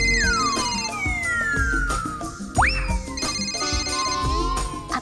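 A tonal electronic ringtone with sliding, swooping melodic notes plays steadily over a busy musical background, loud and close.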